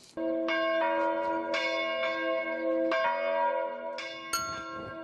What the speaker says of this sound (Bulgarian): само звука на камбаните, когато ги пробвате